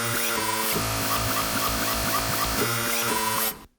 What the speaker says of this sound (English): we can also create, of course, very modern, harsh synthesizer sounds like this